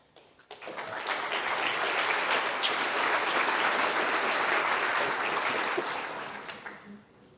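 Audience applause at an NZ Tech Rally 2023 conference talk swells quickly, holds as steady, dense clapping for several seconds, then tapers off near the end.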